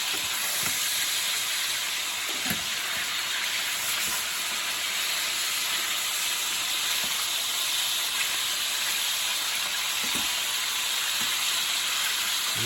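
Meat for an Italian Sunday gravy searing in a pan, a steady broad sizzling hiss with a few faint clicks, constant in level and free of talk.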